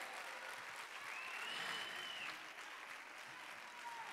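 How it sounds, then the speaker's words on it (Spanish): Audience applause at a school performance and diploma ceremony for Colegio Vicente Aleixandre: steady, dense clapping from a crowd that holds an even level throughout, with a faint whistle-like tone drifting above it. "Levantamos el telón y le damos un fuerte aplauso al Colegio Vicente Aleixandre."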